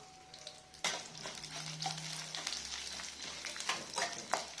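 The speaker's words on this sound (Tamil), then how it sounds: "உளுந்து வரமிளகா உளுந்து ஃப்ரை பண்ணிக்கணும்" Urad dal and dried red chillies fry in oil for tomato chutney, a quiet, steady sizzle with occasional stirring clicks.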